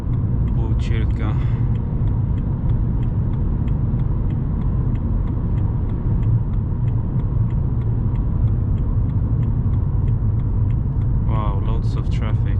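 Road traffic south of Stockholm heard from inside a driving car, a steady loud low engine and tyre rumble filling the cabin, with a person speaking over it.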